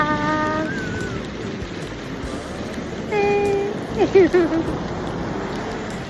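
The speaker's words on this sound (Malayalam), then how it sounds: "മഴ ചുമ്മ മാത്രം നല്ല രസമുണ്ട് കേട്ടോ" Steady rain hisses throughout, with brief whistling tones and a faint voice partway through.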